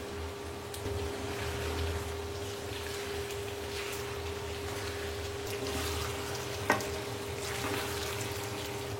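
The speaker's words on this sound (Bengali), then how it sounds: "সো আদা দিয়েও মোটামুটি 5 মিনিট ভাজলো।" Meat frying with ginger paste in a pan, a steady soft sizzle and crackle with a faint constant hum and one sharp clink of a utensil, no talking.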